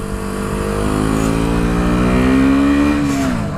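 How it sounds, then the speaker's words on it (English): A KTM Duke 125 motorcycle with a loud race exhaust holds a steady, buzzy drone, then its pitch swells upward in a rev near the end. "with a proper race exhaust or aftermarket exhaust or loud pipe or whatever you like to call it"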